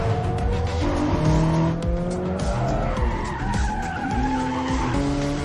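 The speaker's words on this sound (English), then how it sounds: "a late night Tokyo drift session" A car drifts through a late-night Tokyo street session, its tires squealing and skidding continuously while the engine howls and shifts pitch, loud and close with no voices.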